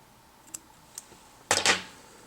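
Scissors trimming materials on a small hopper or flying ant fly at a fly-tying bench: two faint snips, then a louder double snip near the end, close by and with no talk.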